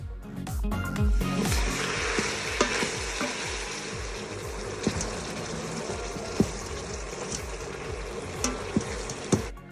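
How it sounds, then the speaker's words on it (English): Sausage browning in an Instant Pot, sizzling and frying steadily while a utensil scrapes and stirs it in repeated rhythmic strokes, with a few sharper clinks against the pot, close and continuous. "Stir constantly to prevent sticking."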